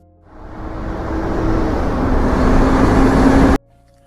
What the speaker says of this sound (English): 3 days later, a car pulled into the compound.